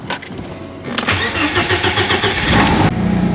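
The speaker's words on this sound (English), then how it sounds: "So you can hear how quiet the car is actually running" A BMW E30 that sat unmoved for 16 years, fitted with a new intake boot, cranks briefly and fires, then settles into a steady, even idle that stays loud and close for a few seconds.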